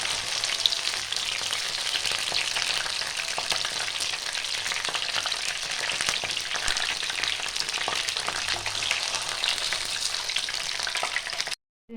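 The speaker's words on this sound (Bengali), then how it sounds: "একটু হালকা করে এগুলো ভেজে নেব" Mushrooms fry in a pan with a steady, dense sizzle and crackle that runs unbroken and fairly soft, cut off abruptly at the end, with no voices.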